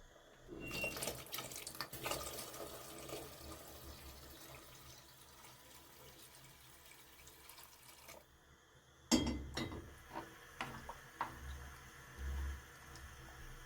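Water running from a tap or poured into a pot of Algerian berkoukes vegetable soup with beans, a steady liquid splash for about eight seconds, then a pause and several clattering knocks and splashes nearby.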